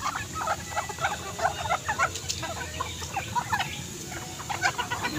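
Hungry backyard chickens clucking continuously, many birds near together in a busy, uneven chatter over low outdoor background noise.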